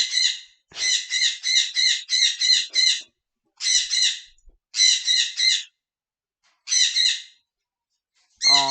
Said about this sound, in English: Oh god, my bird's having a spaz.